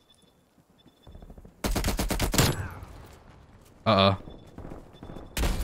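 Rapid gunfire in the video game Call of Duty: Black Ops Cold War comes as loud clustered bursts, a long rattling volley, then a short sharp burst and another at the end, with a brief spoken remark early on.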